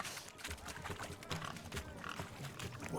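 Pigs grunt and oink in a rough, busy cluster during a pig race in The Witcher 3: Wild Hunt – Hearts of Stone, close and fairly loud, with overlapping snorts and squeals running through the whole stretch.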